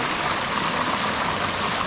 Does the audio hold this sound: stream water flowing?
yes